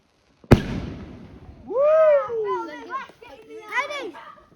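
Bonfire night fireworks: one sharp, loud bang opens the scene, followed by rising and falling whistling tones, with children's voices chattering and shouting around the display.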